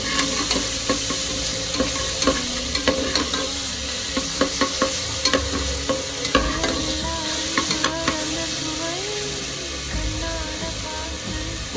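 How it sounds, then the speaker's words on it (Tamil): Ginger garlic paste sautéing in hot oil, a loud steady sizzle close by, broken by frequent scraping and tapping of a spoon stirring the pan. "கொஞ்சம் இஞ்சி பூண்டு பேஸ்ட், இந்த பச்சை வாசனை போகிற வரைக்கும் வதக்கணும்."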